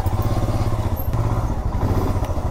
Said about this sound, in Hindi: तो यहाँ पे बाइक पार्क करना पड़ेगा।